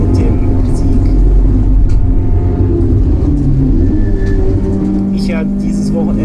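Onboard a Chevrolet Cruze touring race car at Automotodrom Grobnik, the engine drones loud and close with shifting pitch and steady road rumble, while a voice talks over it.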